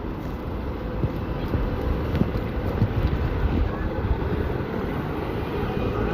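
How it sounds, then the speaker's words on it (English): Strong outdoor wind roars steadily and loudly against the microphone, a dense continuous rumble with no breaks. "Extreme wind out here"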